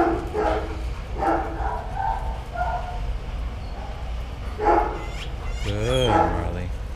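Shelter dogs in a kennel give a few scattered barks and a rising whimpering yelp, set against steady kennel background noise with faint voices nearby.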